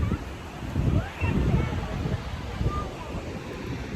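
Surf and gusting wind on a Kenyan beach, a broad steady wash of waves with low rumbling wind buffeting the microphone throughout, swelling and easing in loudness.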